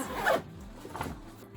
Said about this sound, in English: I really love this bag because it has two zippers.